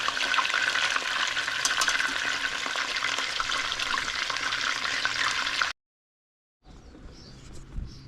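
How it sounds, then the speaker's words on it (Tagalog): Milkfish sizzles in a frying pan in a home kitchen, a steady bright hiss that runs for several seconds, cuts out abruptly, then gives way to quieter background noise. "Piprito tayo ng isda."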